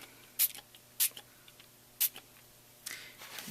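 Dylusions Crushed Grape ink spray pumped onto paper over a cereal box, four short, sharp hissing spritzes with pauses between them, close and crisp against a quiet background.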